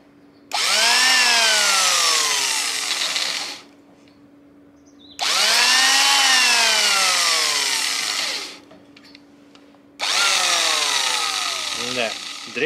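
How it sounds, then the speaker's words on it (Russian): An electric drill with a 9 mm bit whines in three long bursts of several seconds each, its pitch dropping as it bites in, with short pauses between. "Пошлите сверлить, сейчас я пойду просверлю"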